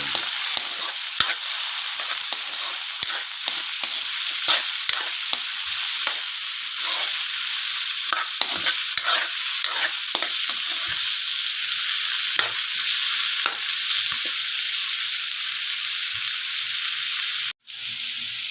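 Onions, garlic and carrots fry loudly in a pan as a spatula scrapes and stirs through them in repeated strokes, a steady close sizzle that cuts out briefly near the end, with no voices.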